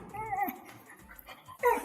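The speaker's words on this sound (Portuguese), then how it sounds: "comandadas pelo Chewie, essa gostosura de cão podcaster." A dog whimpers and yips in short, plaintive bursts, close and fairly quiet, with brief pauses between the high whining calls.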